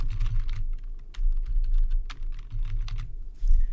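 Steady typing on a computer keyboard as a name is entered, dense clusters of close key clicks with short pauses between bursts, no talking.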